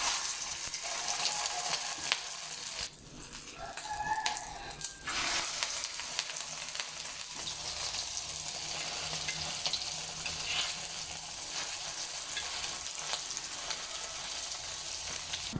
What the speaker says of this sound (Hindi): ये अंडे में लगा के और इसे फ्राई करना है।